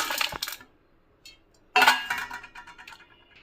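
Crispy homemade potato French fries tipped onto a plate, giving two bright clattering bursts of contact, a short rustle, then a louder scatter of fries landing and settling, close and with no talk.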